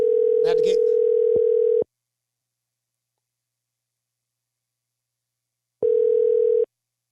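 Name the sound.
phone dial tone while calling back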